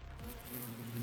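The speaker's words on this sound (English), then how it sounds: "A huge swarm of bees appeared, gathering in the air above Adamaku." A large swarm of bees hums in a video game scene, a steady dense buzz that swells slightly in loudness, heard on its own without voices.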